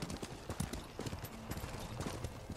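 Rhythmic clip-clop of horse hooves trotting at a steady pace in the video game Ghost of Tsushima, fairly close and moderately quiet, with no talking.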